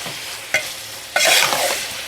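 Baby lamb brain (magaz) is stirred into hot oil in a pot, bringing a sharp burst of sizzling after a brief clank, with the frying hiss rising then easing.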